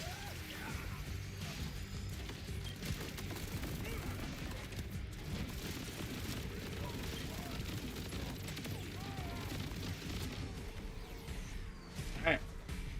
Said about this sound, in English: I'll just fry him with my SMG.